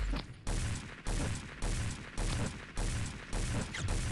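Rapid bursts of high fire rate gunfire from a weapon in the mobile shooter Pixel Gun 3D, loud and close, coming in about seven repeated volleys separated by brief gaps, with no talk over them.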